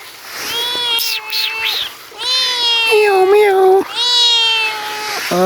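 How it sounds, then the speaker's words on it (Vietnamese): A cat meows loudly and close by in a series of drawn-out, wavering cries, several in a row with short pauses between them, with no talking over them. "mèo"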